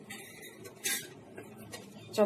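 A metal spoon clinks against a bowl while a spoonful of oil is added to rice flour dough being kneaded; a few brief, close, light clinks, the sharpest near the end, over faint room noise.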